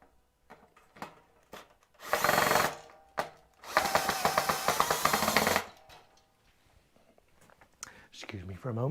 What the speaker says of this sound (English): I'll tighten those screws up as well.